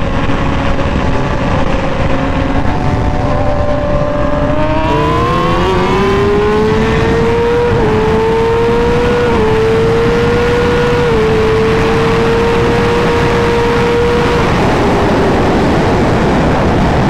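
Kawasaki ZX10R and BMW S1000RR sport motorcycles racing, heard as a loud, close engine wail that climbs in pitch through several gear shifts with brief dips between them, over steady wind roar.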